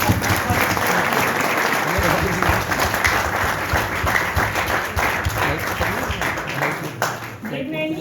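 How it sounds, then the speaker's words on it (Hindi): An audience applauds loudly to welcome a two-day college drama club theatre festival, a dense, steady roar of clapping lasting several seconds before it tapers off near the end. "जोरदार तालियों से इस महोत्सव का स्वागत"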